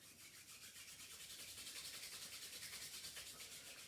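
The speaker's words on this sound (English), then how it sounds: "Lightly rubbing the pants." Hands lightly rubbing along the fabric of pants during a beginner hatha yoga class, a soft, steady brushing swish repeating in a quick even rhythm, close and quiet, with no talking.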